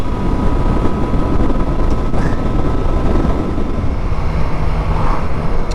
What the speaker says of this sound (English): That engine note is amazing